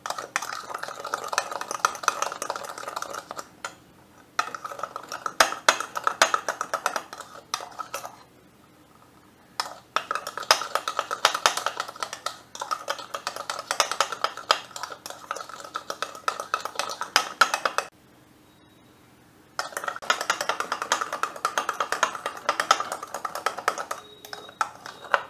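A spoon hand-beats coffee in a cup for homemade cappuccino, a fast, continuous clinking and scraping whisk rhythm that runs in long bursts, broken by two brief pauses.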